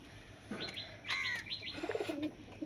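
Madras pigeons in a home loft give soft, brief coos and chirps in short bursts, close but quiet, with a faint rustle of wings among them.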